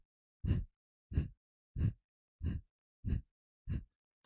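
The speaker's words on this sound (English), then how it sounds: "we're going to do a cleansing technique called Kapalabhati breathing" Kapalabhati yoga breathing in a Sivananda-style practice: six quick, forceful abdominal exhales through the nose, evenly spaced about every half second, close and clear with silence between each puff.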